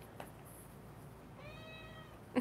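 A cat gives a single short, faint meow in a quiet room, with only low background hum around it and no purring clearly audible.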